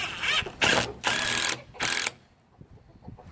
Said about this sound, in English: And then we're just going to screw those in place.